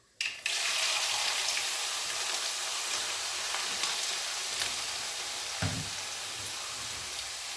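Long-sliced ginger frying in hot oil for beef pickle: a dense, loud hiss of sizzling begins abruptly and continues steadily throughout, with a faint clack partway through and no voices.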